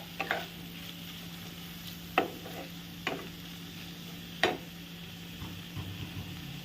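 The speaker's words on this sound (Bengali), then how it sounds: "টমেটো কুচি দিয়ে একটু নাড়াচাড়া করতে হবে।" Chopped tomatoes sizzle softly in a pan for a paneer and beans sabzi while a spoon stirs them, sending a few sharp scraping clicks over a low, steady frying hiss.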